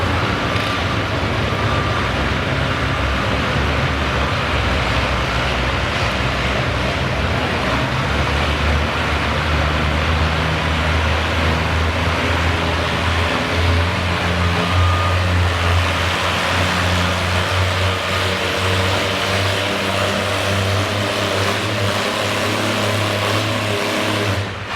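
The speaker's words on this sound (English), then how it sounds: "Let's see that red tractor go." Red tractor engine roaring continuously at a winter tractor pull in Chatham, Virginia, a loud sustained low drone with strong rumbling harmonics and slight shifts in pitch as it pulls, no talk over it.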